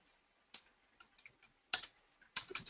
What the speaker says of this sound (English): So I'll just start typing something here.